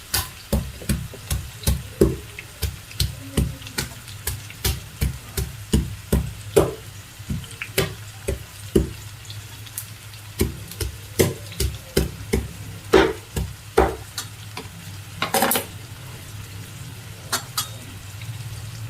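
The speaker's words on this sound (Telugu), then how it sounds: "ఉల్లిపాయ కూడా బాగా వేయించుకోవాలి. వెల్లుల్లిపాయలు కూడా ఇప్పుడే వేసేస్తాను, తొక్కతోనే వేసేస్తున్నాను" Onions and garlic cloves still in their skins fry in a pan, a steady oily sizzle running underneath sharp, regular clinks and scrapes of a spoon stirring against the metal, close and fairly loud, with no talking.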